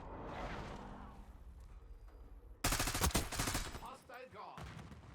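Rapid bursts of KSV gunfire in a first-person shooter video game erupt loudly and close after a quieter stretch, a dense volley lasting over a second before trailing off.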